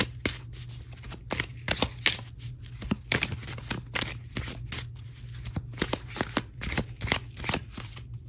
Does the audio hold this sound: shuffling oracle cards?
yes